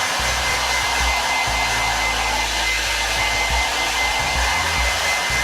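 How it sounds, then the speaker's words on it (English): A hair dryer blows on hair in a continuous loud, close roar of rushing air, its pitch and strength shifting slightly as it moves, with no talking. "Let me dry my hair and see how it looks when it's dry."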